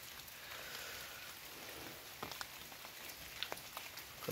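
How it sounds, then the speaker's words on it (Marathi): Heavy monsoon rain falls outdoors in the forest on a rainy day, a steady soft hiss with scattered sharper drop taps near the microphone and no voices. "पाऊस खूप आहे, पावसामुळे मोबाईल भिजेल ही भीती मला जास्त आहे."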